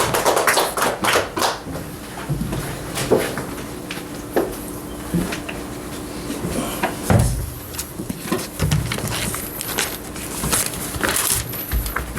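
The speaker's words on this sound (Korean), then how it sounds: "우리 박수로 환영하시겠습니다" A church congregation claps to welcome a missionary before his sermon, a dense, steady patter of many hands at moderate distance with scattered louder taps standing out.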